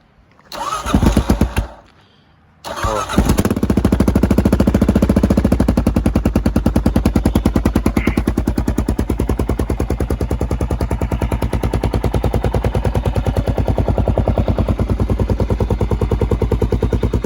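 A Kawasaki KLR650 single-cylinder motorcycle fitted with a cheap eBay aftermarket muffler starts from cold after a brief cough, then settles into a loud, steady, rapid thumping idle that echoes off a nearby building.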